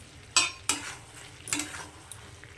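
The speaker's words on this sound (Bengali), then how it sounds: "এটাকে এটার সঙ্গে খুব ভালো করে মিশিয়ে নেব" Cubed green capsicum being stirred into chicken in a pan, a few sharp spatula scrapes and clinks over a faint low sizzle.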